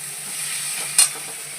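Garlic fries in a pan for a curry, giving a steady bright hiss of sizzling oil with one brief louder spitting burst near the middle.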